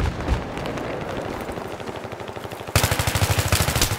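Gunfire in a Battlefield 3 conquest match on the Grand Bazaar map, with bursts of rapid automatic fire at mid-distance that give way to a louder, close, rhythmic string of shots near the end.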